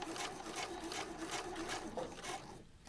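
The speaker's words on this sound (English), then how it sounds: "Put down the foot, and I'm only going to sew right over that seam." A sewing machine stitches across a quilt seam in a short steady burst, its needle beating in a rapid even rhythm, close and moderately quiet, then slowing to a stop.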